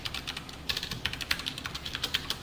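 Keys clattering on a computer keyboard while C code is typed, quick irregular clicks close to the microphone, quiet and unaccompanied by speech.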